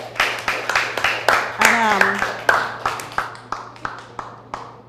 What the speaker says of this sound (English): Give yourselves a clap for all your input.